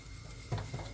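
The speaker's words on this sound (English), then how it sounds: "Let's heat up our pan. And I'm going to add a little bit of olive oil." Olive oil heating in a pan on the stove, a soft continuous sizzle with faint crackles and a light stir or scrape midway, close and quiet.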